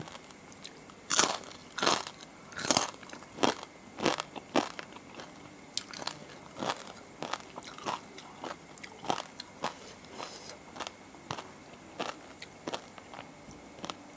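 Close, crisp crunches come as someone eats crunchy fried pork belly with spicy papaya salad and fermented fish sauce. Sharp bites and chewing repeat roughly every second, with softer mouth sounds between them and no voices.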